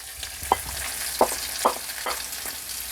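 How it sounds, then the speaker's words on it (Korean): Sausage, garlic and vegetables stir-frying over medium heat, a constant close sizzle punctuated by several sharp spatula clinks against the pan. "마늘하고 소세지를 한 1분 정도만 볶아줄게요"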